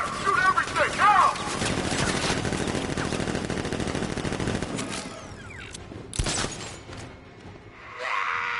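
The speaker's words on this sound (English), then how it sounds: "Open fire! Shoot everything! Now!" Sustained automatic gunfire in a video game rattles loudly for several seconds alongside a speaking voice, then eases off with a sharp single impact and scattered quieter noise.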